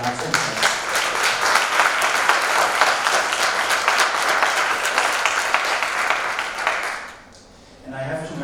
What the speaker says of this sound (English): But please also give a big round of applause to Jan's interns.